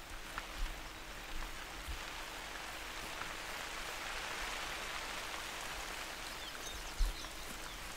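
Steady rainfall in the hunting game theHunter: Call of the Wild, a dense, even hiss of drops on the surroundings that continues throughout, with a few soft low thumps along the way and no voices.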